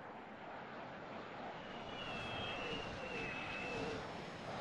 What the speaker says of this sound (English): you can see here comes the jet